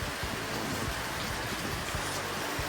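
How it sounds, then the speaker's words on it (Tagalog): Steady, dense rain falls continuously with a broad hiss in Bicol, Philippines, with some low gusty rumble from wind mixed in; no voices. "Ito po yung ulan dito sa Bicol, may dalang hangin."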